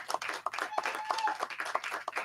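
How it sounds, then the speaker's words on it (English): A church audience gives a short round of applause, a faint, loose scatter of claps from a small crowd lasting only a couple of seconds. "a round of applause"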